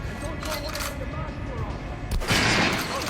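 Gunfire bursts from the video game Metro Redux, with a louder volley near the end over a busy in-game background and some talk.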